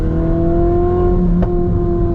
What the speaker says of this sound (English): The car lets off little burbles when you let off the gas